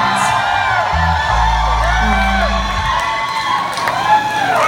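A crowd at a POLIÇA record release show at First Avenue in March 2016 cheers, whoops and shouts loudly and steadily throughout, a dense, sustained roar of many voices.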